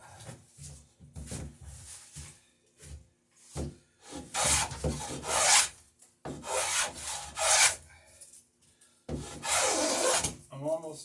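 Wood is shaved by hand off a boat rail for a 21-foot open boat in repeated rasping strokes, some long and some short, with brief pauses between, close up with no talk.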